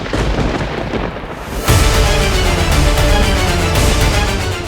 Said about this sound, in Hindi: इनके गरजने की कोई चिंता नहीं। ये बादल शुभ समाचार का संकेत है।